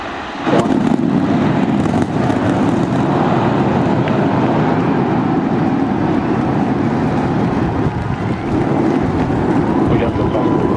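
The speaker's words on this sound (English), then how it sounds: "We got liftoff." A SpaceX Starship rocket lifts off on its eighth test flight, its engines giving a steady, broad, wind-buffeted roar that holds loud and unbroken throughout, with a voice talking over it.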